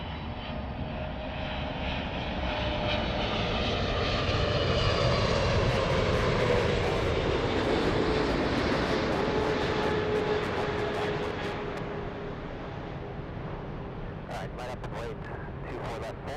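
Airliner taking off on runway 24 Left at LAX: a powerful engine roar that builds, holds for several seconds and then gradually fades, with tower radio voices talking underneath.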